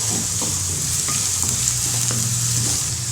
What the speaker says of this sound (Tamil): ரொம்ப நேரம் வதக்கக்கூடாது, காயெல்லாம் கொஞ்சமாக வதக்கினா போதும்